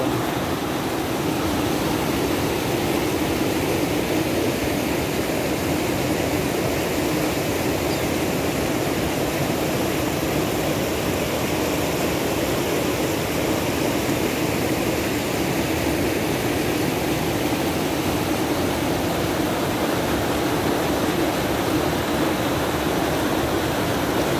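The Rio Grande at San Román rushes in a steady, broadband roar of flowing water, heard close and unbroken for the whole stretch.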